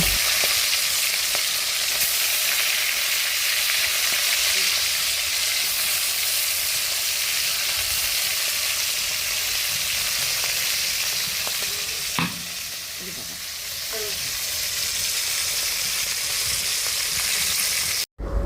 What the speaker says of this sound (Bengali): এখন হচ্ছে আমি মাছগুলো ভেজে নিব ঝোল রান্না করার জন্য